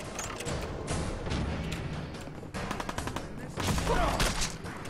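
Rapid laser musket shots and bursts of gunfire in Fallout 4, loud and dense throughout with several sharp cracks clustered near the end, under brief game noise.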